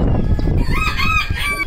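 A backyard rooster crows close and loud in one short, quavering call with a clucking undertone from the flock, no speech.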